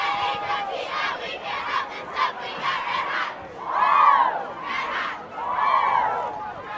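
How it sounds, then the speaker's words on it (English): A large crowd in the bleachers at a high school football game roars and shouts in swelling waves, with bursts of cheering rising and falling over a steady hubbub of voices. "So a great-sized crowd here at the game."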